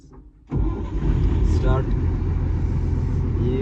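A JCB backhoe loader's diesel engine cranks and fires up, then settles into a loud, steady rumbling idle close by.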